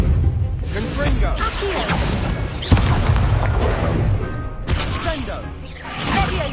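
A fiery Confringo spell blast in the video game Hogwarts Legacy, a rumbling boom with whooshing bursts amid a dense game soundtrack, with spoken voices heard over it.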